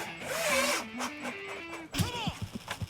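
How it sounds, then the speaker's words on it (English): A power drill drives a white screw into the mitered corner of a basement window frame, giving a short, close motor whine that shifts in pitch before ending in a few sharp clicks. "One white screw there, tighten the corner."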